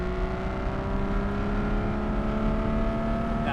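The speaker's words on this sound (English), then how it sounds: "I'm in second gear, 1500 revs. Let's just wind it out, see what we get." A Porsche 981 Boxster GTS engine winds out in second gear from 1500 rpm, a steady loud droning rev with strong harmonic tones heard from inside the car, with no talk over it.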